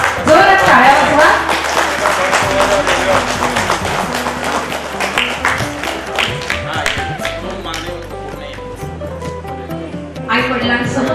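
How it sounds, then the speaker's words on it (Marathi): An audience at a retirement ceremony claps in a dense, sustained burst that runs for several seconds, with voices audible under the applause. "आयुष्याच्या जोरात टाळ्या वाजवा."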